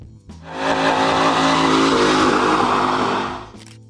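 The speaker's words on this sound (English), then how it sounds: "Number 5, 1996, Chevrolet Corvette Grand Sport." Loud, close engine roar from a 1996 Chevrolet Corvette Grand Sport revving, building quickly and holding a sustained high rev for about three seconds before cutting off, with no voices.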